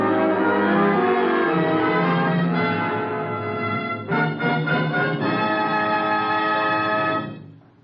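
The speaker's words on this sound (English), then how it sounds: "The NBC chimes will be ringing soon" NBC radio network chimes from an old-time radio broadcast: loud, sustained bell-like tones that shift pitch through a short sequence of notes, then ring out and fade, with no voices.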